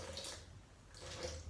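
Water pouring into a blender of rosemary dill macadamia mayonnaise, two short splashing bursts separated by a brief pause, close by with no talking.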